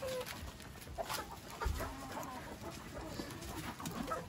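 Chickens and roosters of heritage breeds, including Dekalb Brown, Sasso, Naked Neck and mixed breeds, cluck and call in a farm laying pen. The scattered clucks are fairly faint, and other birds and outdoor noise sound in the background.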